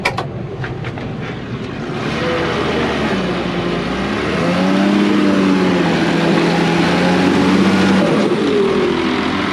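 A Volvo excavator's diesel engine runs on a basement dig, a loud, close, sustained drone whose pitch climbs and dips as the revs change, with no talking.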